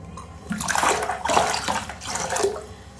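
Hot water splashes and runs while a face is washed, with rushing bursts of water and splashing in a few uneven surges, close and fairly loud.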